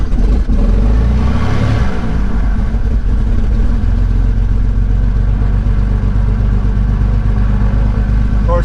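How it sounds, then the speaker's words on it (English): The left engine of a Cessna 310 cranks and fires, then settles into a loud, steady, close engine roar after a brief starting surge, with a faint voice briefly under it. "as we start the left engine here, we're going to hit the starter and then toggle the prime"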